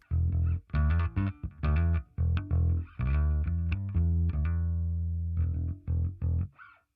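Cornerstone bass pedal's clean setting with a bass on its P pickup, a series of plucked notes: short punchy bursts, then a long sustained ringing note from about 3 to 5.5 seconds, followed by a few more plucks, close and loud.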